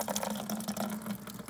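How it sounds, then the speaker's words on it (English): A slurry of seeds and water is poured off from a container, giving a steady splashing, gurgling flow, close and continuous with no talk. "now all we have to do is just pour off all that slurry"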